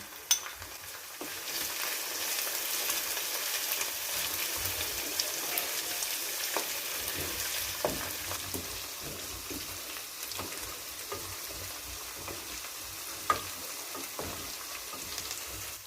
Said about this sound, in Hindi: ये लहसुन अदरक का पेस्ट हम डाल रहे हैं।